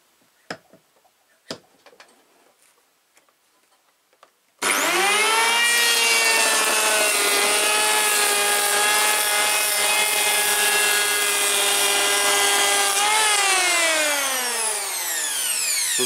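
A SKIL model 1590 electric planer starts after a few faint knocks and planes wood in a loud, sustained whine that holds steady for several seconds, then drops in pitch as the cut ends and the motor keeps running.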